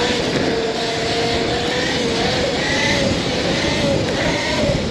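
Surron Light Bee electric motorbike running at 28 kW, a steady whine that climbs slightly in pitch over constant loud wind rush, close and continuous.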